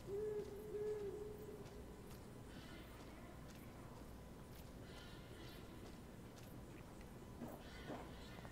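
Owl hooting in the Life is Strange video game, a short series of low hoots near the start against a quiet, noisy night ambience, with faint rustles and steps later.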